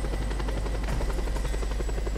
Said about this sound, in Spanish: ¡Tenemos helicópteros!